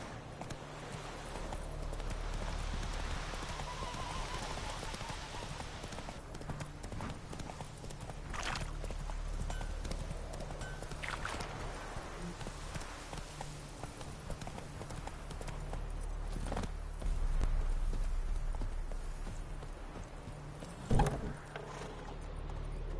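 Horse hooves clip-clop at a steady riding pace in The Witcher 3: Wild Hunt, running continuously at moderate loudness with game ambience underneath and a brief sharper knock near the end.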